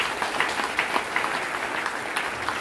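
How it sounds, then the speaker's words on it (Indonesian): A church congregation at a Christmas celebration applauds, a dense, continuous patter of many hands clapping throughout. "Mari kita berikan tepuk tangan."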